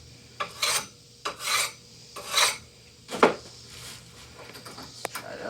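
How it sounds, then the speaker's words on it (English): Several rasping file strokes scraping burrs off the backside of a metal part, five or six distinct swipes in a loose rhythm, close and fairly loud with brief pauses between. "few swipes on the backside to remove any burrs."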